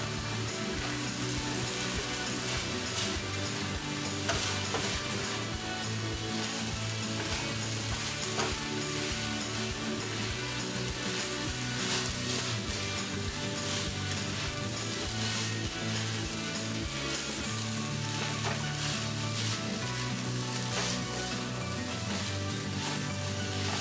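Homemade fried rice with tofu sizzles steadily in a hot pan, a dense continuous crackle and hiss that stays loud and even throughout, with no talking.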